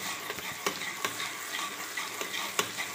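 Garlic-ginger paste frying in a pan gives a close, steady sizzle, broken by a few sharp scraping stirs of a utensil and with no talking.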